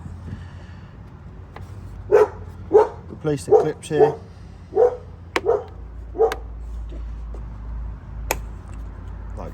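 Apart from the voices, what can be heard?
dog barking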